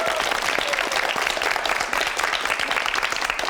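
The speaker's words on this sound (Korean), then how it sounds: "박수 한번 보내주세요" Studio audience applause on a Korean TV language quiz show, a steady dense clatter of many hands sustained evenly throughout without a break.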